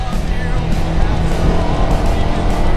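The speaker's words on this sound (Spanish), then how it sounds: "el motor se siente muy rabioso, como que va ahí con todo, te pide otro cambio más en todo momento" A Kawasaki Versys X 300 motorcycle engine revs hard while riding, a loud continuous roar with rising and falling pitch mixed with steady wind noise throughout.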